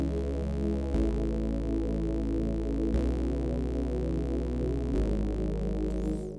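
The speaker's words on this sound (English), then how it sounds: "I introduced these other synths that sound like this" Rough, buzzy synth sub bass from a pop track, a deep sustained droning tone changing pitch every two seconds or so, loud and steady with no other sounds over it.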